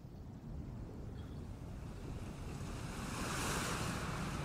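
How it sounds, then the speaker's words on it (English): Ocean waves wash and surge continuously as a sound effect in a music video, a steady broadband roar that builds slightly louder toward the end, with no voices. "Oh, that's an ocean."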